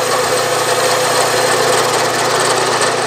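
A metal lathe runs under power feed while taking a light cut on a steam engine part, a steady close mechanical hum and whir with no clear break.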